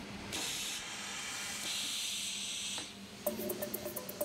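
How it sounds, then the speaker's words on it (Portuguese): A machine steam-moulds felt cowboy hats, giving a steady loud hiss of steam in long bursts, followed by a quieter stretch of rhythmic mechanical clicking. "os chapéus são secos em massa, antes de serem moldados a vapor para diferentes tamanhos de cabeça"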